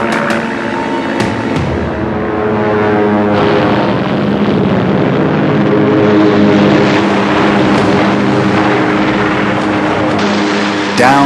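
Fighter aircraft scrambling aboard the carrier Yorktown at the Battle of Midway, a loud steady propeller engine drone with a rising roar, continuous and near, mixed with indistinct voices.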